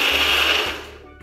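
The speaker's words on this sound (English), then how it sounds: "Then you just put it in the NutriBullet and away we go." A NutriBullet blender whirs with a dense, high-pitched roar at close range, then cuts off and winds down within about a second. No one talks.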